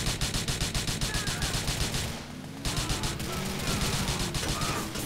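Automatic gunfire in a GTA IV fight with Russian gangs out at sea, a steady, rhythmic rattle of rapid shots that stops briefly in the middle, then returns as denser, layered firing.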